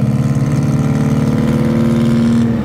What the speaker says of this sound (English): We have a, a little Siata, I believe, coming in here. It's pretty loud.